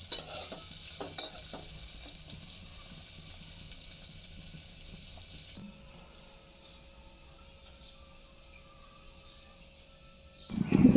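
Onions and spices frying and being stirred in a pan for egg khichuri, a steady soft sizzle with scraping, with a louder clatter near the end.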